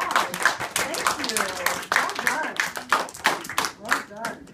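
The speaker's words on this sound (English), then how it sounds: "Okay, round of applause." A burst of clapping from a small group, steady and fairly close, with a few voices mixed in underneath.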